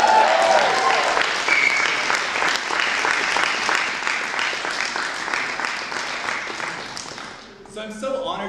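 A conference keynote audience at the University of Toronto claps and cheers loudly and continuously, fading near the end as a voice begins to speak.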